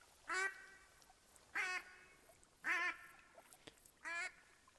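A duck call from TheHunter: Call of the Wild video game quacks four times, each a short raspy burst of a few notes with pauses between, clear and fairly close against a quiet background.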